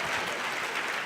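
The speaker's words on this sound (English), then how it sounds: "Let's give these folks one more round of applause." A brief burst of steady, dense clapping from the audience at a community schools national forum, close and even with no voices over it.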